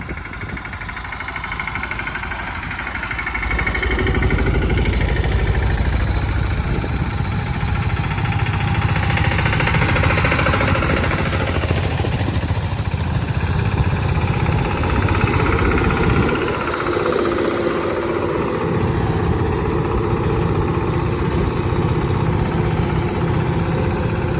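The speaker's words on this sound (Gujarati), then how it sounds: "સનેડો જે છે એ બીજા ગેરમાં હાલે છે" A sanedo, a small farm vehicle, runs in second gear through a cotton field, its engine a loud, steady low chugging throughout with an uneven knocking texture and no talk.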